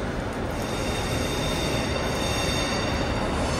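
A train at a railway station platform in Glasgow gives a loud, continuous rumble with high wheel squeal running steadily throughout, close by and with no voices.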